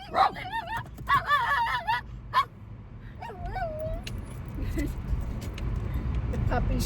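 Puppies bark, yip and whine excitedly near a border crossing checkpoint, high yelps in quick bursts early on, then a car's low rumble takes over.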